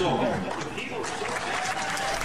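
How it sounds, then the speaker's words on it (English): Crowd at a 2009 town hall meeting applauds in a steady, fairly loud wash of clapping, with some chatter and faint laughter underneath. "There seemed to be applause."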